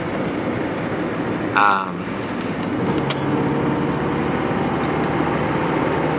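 A 1981 Mercedes-Benz W123 240D diesel car on the move, with a steady broadband engine and road rumble throughout and a brief squeak near the start.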